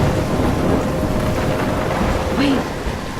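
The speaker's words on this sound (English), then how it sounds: "I'm trapped in a storm?" Thunderstorm with heavy rain in the Life is Strange video game, a loud, dense rush of rainfall with deep rumbling thunder rolling underneath, constant throughout.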